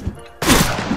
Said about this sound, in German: da haben wir direkt auf den Boden geschossen.